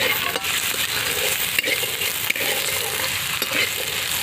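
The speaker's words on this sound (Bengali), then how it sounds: "নিম ছেচকির আলুগুলো দিয়ে দিচ্ছি কড়াইয়ে। আগে আলুগুলো ভেজে তুলে রাখবো একটু।" Potato pieces fry in hot oil in an iron kadai, cooked before neem leaves go in. A steady, dense sizzle continues throughout, with a few faint scrapes and clicks and no talking.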